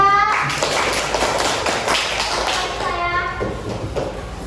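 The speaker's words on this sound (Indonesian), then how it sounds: "Boleh kasih tepuk tangan sama kelompok 3" Primary school pupils in a classroom clap for a group of classmates, a burst of mixed handclaps that thins out, with children's voices and a teacher's voice mixed in around it.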